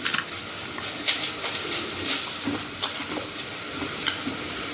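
Snake gourd fritters fry crisply in a pan, giving a steady, close sizzle with scattered sharp crackles and pops throughout, alone without talk.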